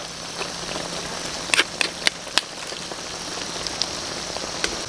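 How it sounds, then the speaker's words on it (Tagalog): Steady rain patters on a surface, with a handful of sharper drips and taps standing out, and no voices. "Umuulan eh."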